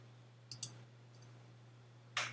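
A pair of quick mouse clicks on an OK button, close and crisp against a faint electrical hum, followed by another single click.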